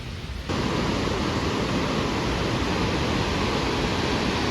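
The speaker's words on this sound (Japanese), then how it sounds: "250メートルの滝はすごい迫力、圧巻の景色でした。" Barron Falls, a 250-metre waterfall at Kuranda in Australia, roars as a loud, constant broadband rush that cuts in sharply after a brief quieter moment and holds steady without a break.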